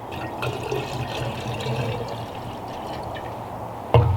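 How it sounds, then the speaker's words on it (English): Orange-flavored vodka is poured into a mixing vessel for a cocktail, a steady close liquid stream lasting several seconds, ending with a sharp clink. "We'll go 6 ounces of orange flavored vodka."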